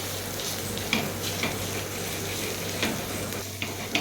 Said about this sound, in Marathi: फक्त अशा प्रकारे प्रेस करत करत मी छान मिक्स करून घेते आहे